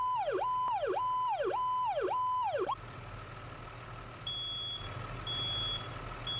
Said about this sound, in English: fire alarm is audible